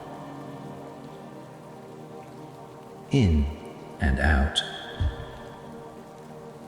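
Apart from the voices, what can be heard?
rain falling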